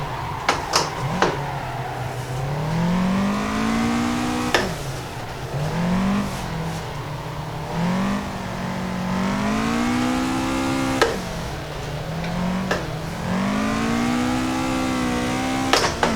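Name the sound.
Toyota AE86 engine revving while drifting in video game Assetto Corsa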